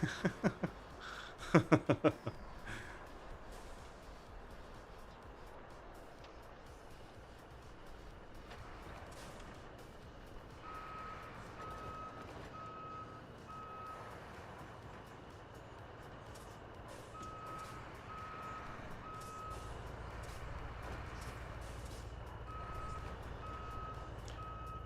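A truck in the video game RoadCraft gives off steady, repeated reversing beeps over a low engine hum, after a few loud knocks at the start, with no talk.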